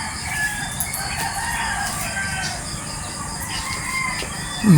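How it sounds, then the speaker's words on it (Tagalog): Roosters crow repeatedly in the distance with scattered clucking, a steady outdoor farmyard chorus with no one talking. "Pakinggan natin ang mga huni ng manok."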